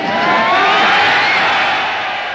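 A large football crowd roars before kickoff in a steady, loud, continuous wash of cheering that eases a little at the end.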